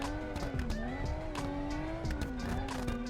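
A Toyota Supra MK5 drifts in BeamNG Drive, its engine droning with a wavering pitch as it holds the slide, joined by steady squealing tires, loud and continuous with no talk.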